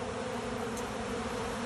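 Honeybees swarming around banana tree leaves and gathering in a cup, a steady close buzzing drone that fills the whole stretch without pause and with no voices over it.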